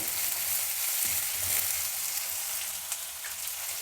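Garlic, curry leaves and onion fry in hot oil for a gojju, making a continuous bright sizzle with a few faint stirring touches. The frying stays fairly loud and even throughout, with no voices.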